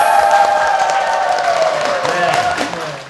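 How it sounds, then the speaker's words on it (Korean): An audience at a lecture applauds and cheers together, a dense burst of clapping that slowly fades across a few seconds, no speech over it. "우리 지역을 아끼는 만큼의 박수 한번 부탁드리겠습니다"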